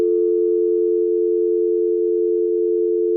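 Telephone busy signal after a caller hangs up, a single steady loud tone holding unbroken throughout, alone with no voices.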